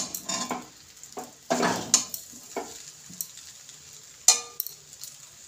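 Egg chicken chowmein with tomato sauce tossed and stirred in a pan, with a run of scraping utensil strokes and soft metallic clinks against the pan over a faint sizzle, close and moderately loud, no talking.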